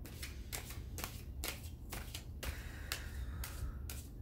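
Tarot cards being shuffled by hand in a quiet room, a series of soft, crisp riffling flicks repeating about every half second, close and gentle with no talk.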